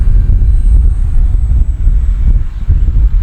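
An Arrows RC Husky model plane flies by in gusty wind, its propeller engine droning loud and close throughout with a wavering buzz, and no voices.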